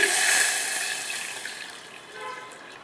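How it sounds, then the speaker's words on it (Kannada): Cooked barley water pours from a glass into bottle gourd soup. There is a brief, close splashing trickle that is strongest at first and then gradually tapers off. "ಈ ಬಾರ್ಲಿನ ಬೇಯಿಸ್ಕೊಂಡು ಆ ನೀರನ್ನು ತೆಗೆದಿಟ್ಕೊಂಡಿದ್ದೀನಿ ಇದನ್ನು ಒಂದು ಲೋಟ ಇದಕ್ಕೆ ಸೇರಿಸೋಣ"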